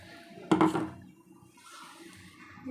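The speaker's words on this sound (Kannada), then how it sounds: "ಇವಾಗ ಇದಕ್ಕೆ ಸ್ವಲ್ಪ ನೀರು ಹಾಕ್ಕೊಳ್ಳೋಣ" A short splash of water pours into a pan of dried pea gravy, a brief gush that quickly fades into quiet background.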